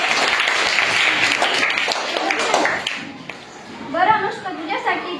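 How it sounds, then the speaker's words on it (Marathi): A primary school classroom of children bursts into dense, sustained clapping for a student during a quiz, loud and even for about three seconds before thinning into scattered claps as a voice speaks. "अनुष्कासाठी सगळ्यांनी टाळ्या वाजवायच्या"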